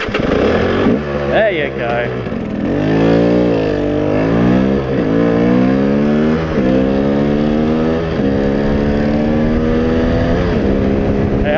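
A motorcycle engine revs up and down after refuelling on a long ride, its harmonics rising and falling close by while someone talks over it.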